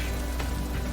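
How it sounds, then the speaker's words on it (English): Steady rain falls across a level in Spyro 3: Year of the Dragon, Reignited Trilogy, a constant close patter and hiss with no pauses. "It's raining all over the level now, which is nice."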